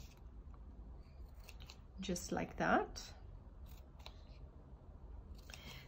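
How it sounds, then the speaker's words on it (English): Scissors cut small inverted V notches where cardboard meets patterned paper, giving a short, close burst of crisp snips in the middle, with a person talking. "I'm cutting little inverted V's where the cardboard meets the patterned paper"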